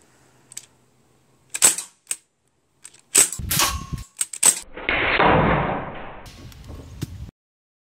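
A Sig Sauer .177 air rifle with an HPA conversion fires at a target outdoors, giving several sharp cracks spaced apart among clacks of handling, followed by a longer hissing rush of air.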